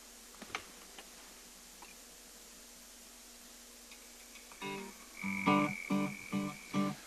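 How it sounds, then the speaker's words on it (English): Bullfrogs croak in a backyard pool at night, faint ticking at first, then a cluster of loud, deep, pulsing croaks in quick rhythmic bursts close by over the last two seconds. "the bullfrogs were enjoying themselves in my pool. So we have some bullfrogs here, and I'll play some of that"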